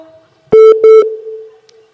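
A telephone ringback tone on a call: steady tonal beeps in a short pulsed pattern, a few quick bursts followed by a fading sustained tone, close and clear.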